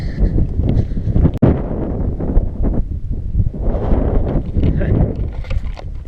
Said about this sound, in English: drop down, hopefully get out of this wind